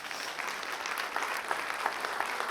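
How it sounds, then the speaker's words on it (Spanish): Church congregation gives steady, moderately distant applause, a dense wash of clapping hands that carries on evenly throughout without voices over it. "Sí, déle un aplauso al Señor."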